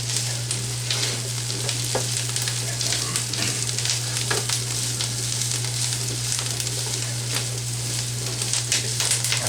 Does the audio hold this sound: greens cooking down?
yes